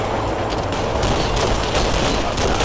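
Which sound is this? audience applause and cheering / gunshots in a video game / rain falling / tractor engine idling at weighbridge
gunshots in a video game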